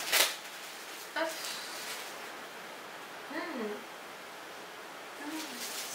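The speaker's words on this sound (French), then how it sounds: "le quatrième produit que j'attrape, il est sous papier bulle." A beauty product, a precious argan body and hair oil, is pulled from bubble wrap: a sharp crinkling burst opens the clip, followed by scattered soft rustles and plastic handling, while a voice speaks in short bursts.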